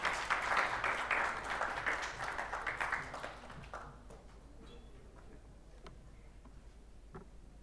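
Audience applause at a fintech forum fills the first few seconds, fairly loud and dense, then thins out around the four-second mark into a handful of scattered, fading claps in a large hall.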